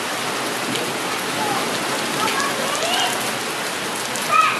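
Light misty rain falls steadily in Islamabad, a soft continuous hiss of fine drizzle close around, with faint voices underneath and no distinct drops.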